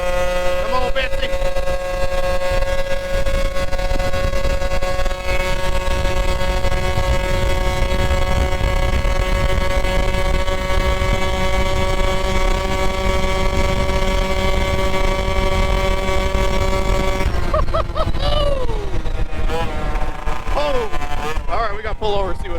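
Moped fitted with a big bore kit, engine revving hard at high speed in a sustained high-pitched whine with wind rush, dropping off near the end as a voice speaks.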